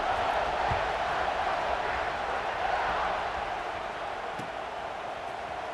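Steady, loud stadium crowd roar in an American football video game before a kickoff, a continuous broadband murmur with no distinct cheers or breaks, holding even for the whole stretch.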